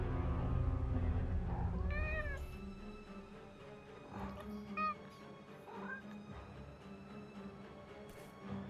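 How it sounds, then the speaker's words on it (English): A cat meows in the video game Forspoken, with several clear, rising meows spread over a few seconds against a low, steady game ambience. "Is that a cat?"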